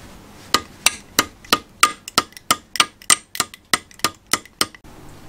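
Repeated sharp metallic hammer taps on a stubborn kingpin of a vintage Austin Pathfinder pedal car, about fifteen evenly spaced strikes ringing loud and close, then stopping; no voices.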